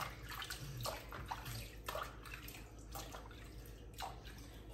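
Soft water splashing and dripping as a newborn baby is bathed in a tub, with gentle sloshes every second or so over a low, steady background, faint and close.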